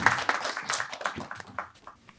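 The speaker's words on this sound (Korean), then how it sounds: "저희 큰 박수로 모시겠습니다." Audience at a family speech contest applauding to welcome a young speaker to the stage, a brief scattered burst of clapping that tapers off within a couple of seconds.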